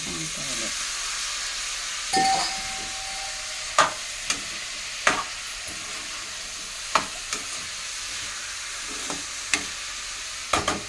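Eggplant pieces sizzle in hot oil in a pan, a steady bright frying hiss broken by several sharp clicks and scrapes of a spoon against the pan, close and without talk.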